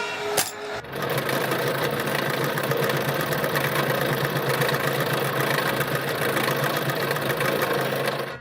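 A sewing machine stitches the sole of a Peshawari chappal, giving a loud, fast, even mechanical chatter that starts after a brief clatter and runs steadily without talk.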